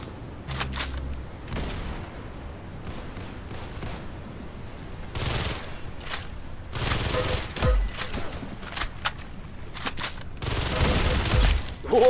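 Gunfire in the Roblox game Arsenal: sharp single shots and short bursts spaced irregularly, with louder clusters of rapid fire, fairly close and clear over a quiet background.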